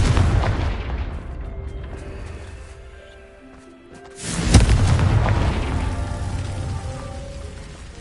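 A Confringo blasting spell from a Harry Potter video game erupts in a deep booming explosion midway, after a rumbling roar fades, followed by a long crackling, rumbling decay.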